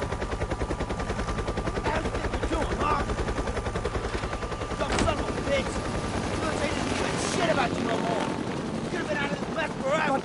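Helicopter rotor chopping steadily in The Walking Dead: Survival Instinct video game, a loud continuous pulse mixed with bursts of gunfire and game effects, with talk over it.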